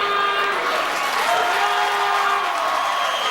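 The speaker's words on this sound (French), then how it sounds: "On applaudit, mesdames et messieurs, Gino Chouinard." Loud studio audience applause fills the room with dense, steady clapping from start to finish, with a few cheers and voices rising from the crowd during a French-language television show.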